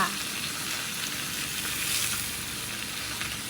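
Cabbage stir-fried with pork in a hot pan over high heat, a loud steady sizzle and crackle of frying with faint stirring, continuous throughout and without talking.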